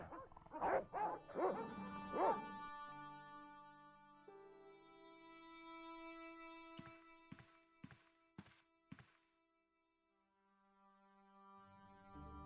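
Dogs barking in the Broken Sword point-and-click adventure game, several loud barks early on, then a sustained musical tone with a short series of sharp percussive hits, no talk.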